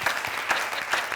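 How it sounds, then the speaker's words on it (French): An audience claps for an eminent actor, dense steady applause from many hands at close range, continuous and fairly loud. "Messieurs, applaudissements pour lui."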